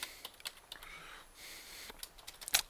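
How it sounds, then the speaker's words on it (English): Quick bursts of typing on a computer keyboard, irregular clusters of light clicks with short pauses, close and fairly quiet, ending in a louder flurry of keystrokes. "let me just type in"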